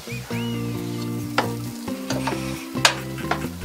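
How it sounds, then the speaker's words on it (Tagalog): Grains being stirred in a nonstick pan over low-medium heat, a steady sizzle with scraping stirs and a few sharper clinks of the utensil against the pan, close and alone without talk. "Haluin lang muna natin and then, over low medium heat, cook it for 10 minutes or until the grains are soft."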